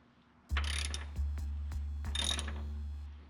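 A hand ratchet works on a bolt of a Corvair Greenbrier van, giving a few distinct metallic clicks over a steady low hum, close and clear.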